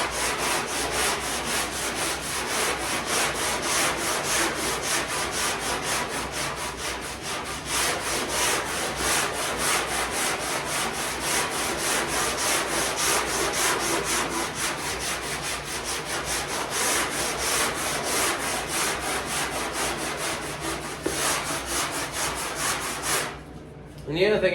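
A long sanding block rubs steadily back and forth over body filler on a car panel, giving a close, continuous rasping hiss in quick even strokes that stop near the end, with someone speaking now and then.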